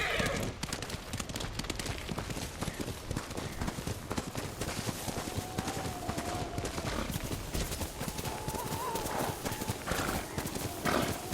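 Rapid, rhythmic hoofbeats of a galloping horse in Ghost of Tsushima continue throughout, with a brief whinny, over a steady wind-like background of worsening weather.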